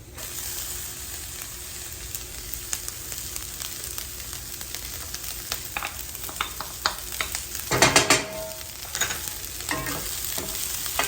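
Diced chilies with their seeds frying in bacon grease for refried beans, a constant close sizzle broken by crackling pops and a loud burst of stirring midway, with no speech.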